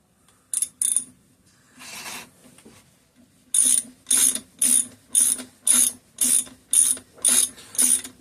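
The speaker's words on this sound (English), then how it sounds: "I'm putting a bolt in for one of the rubber grommets, or one of the rubber mounts, the anti-vibe bushings" A bolt being worked into a rubber anti-vibration mount on a scrapped Homelite 330 chainsaw, giving a few scattered clicks and then a steady series of about nine sharp ratcheting bursts, close and loud, with no talk.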